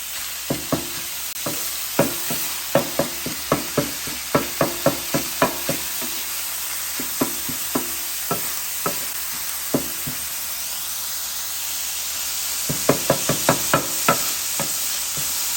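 Ground hamburger meat seasoned with salt, pepper, garlic powder and onion powder browns on a Blackstone 17-inch E-Series electric griddle. A constant sizzle hisses beneath sharp spatula scrapes and taps that come in quick bursts, then pause, then cluster again near the end.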